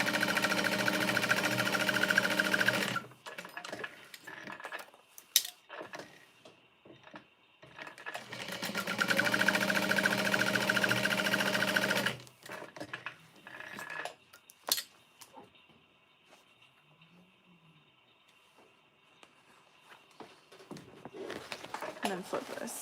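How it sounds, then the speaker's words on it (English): Sewing machine running in two long steady bursts along the top and bottom edges of a custom order, with pauses of handling noise between and quiet talk afterward. "I'm going to sew along the top and the bottom."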